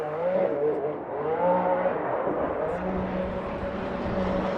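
BMW drift cars, an E36 and a newer model, battling at a Formula Drift event in Irwindale, with engines revving and wavering continuously under a steady roar of crowd and track noise.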